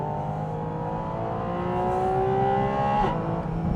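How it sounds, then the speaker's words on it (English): Porsche 718 Spyder RS flat-six engine with the roof closed, a steady rising engine drone with harmonic tones climbing in pitch as it revs, fairly loud and continuous, then a brief shift near the end. "Now I want to show you guys what the sound is like, even when you have the roof closed."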